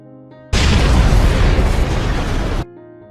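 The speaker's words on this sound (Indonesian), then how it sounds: "Tanpa peringatan, kapal tanker itu meledak, menghancurkan hampir setengah dari kereta Joe yang sedang mengejar mereka." A tanker truck explodes in a film action scene, a sudden loud broadband blast that roars steadily for about two seconds before cutting off, with quieter music or ambience before and after.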